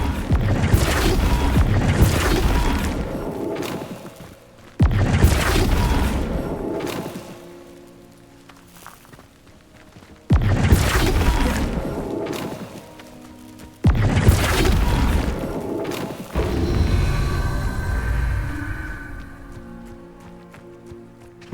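Flipendo spell impacts in Hogwarts Legacy, four heavy booming blasts at regular intervals, each with a crashing burst and a rumbling decay, loud and up close.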